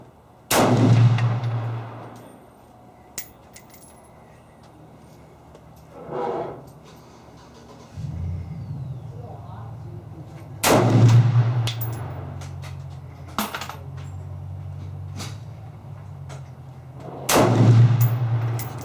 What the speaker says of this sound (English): we're shooting at 50 yards